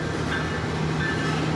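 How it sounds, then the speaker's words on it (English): A CPKC freight train rumbles past on a smoky day, a steady dense roar of rolling cars with a faint high tonal whine, continuous and close throughout. "That is another CPKC train, so that's got to be 220."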